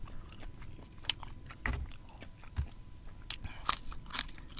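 Crunchy food bitten and chewed during a lunch outdoors at a field camp: repeated close, crisp crunches and bites over faint background noise, without talk.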